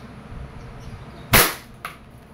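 A WE airsoft Glock 19 Gen 5 gas pistol fires one sharp, loud shot, followed half a second later by a fainter second crack, over a low background rumble.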